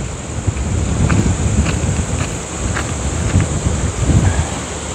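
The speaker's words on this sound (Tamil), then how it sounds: "காற்றுமே பலமாக இருக்குது." Strong wind buffets the microphone in a steady, loud rush beside water in the Sri Lankan mountains where a river joins, with low rumbling gusts swelling and easing throughout and no voices.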